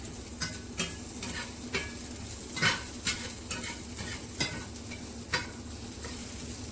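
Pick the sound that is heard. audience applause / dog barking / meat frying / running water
meat frying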